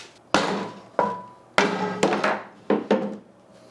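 A hammer strikes wood in a workshop, fixing a pulled concrete anchor: seven sharp, close, loud blows arrive at uneven intervals, each ringing briefly before it fades.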